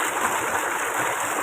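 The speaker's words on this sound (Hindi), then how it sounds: "ये बिल्कुल पूरा पानी दे रहा है।" Water gushes from the pipe of a solar-powered tube well, a pipe roughly five or six inches wide. It makes a constant, full rushing and splashing noise that stays steady with no speech.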